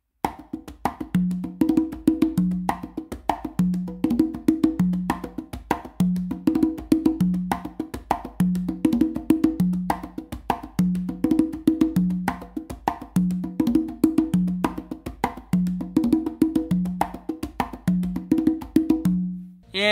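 Conga a caballo variation spread across three drums, a steady galloping pattern of open and muted hand strokes repeating evenly throughout, played alone with no talking.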